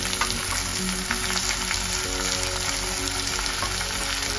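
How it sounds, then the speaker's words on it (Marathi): Masala sizzles steadily in hot oil as it is roasted with ginger and thick coriander stalks for a chicken and mutton curry. The frying hiss is loud, close and continuous, with no talk. "तेल टाकून भाजून घ्यायचं. आता आपला मसाला भाजत आलाय."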